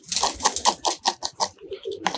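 A pigeon close by gives a quick run of soft, rhythmic coos, several pulses in a row, with no talking over it.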